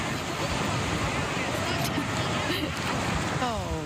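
Ocean waves rolling in at Dog Beach in San Diego, a steady broadband wash of surf and wind noise that runs loud and unbroken through the whole stretch.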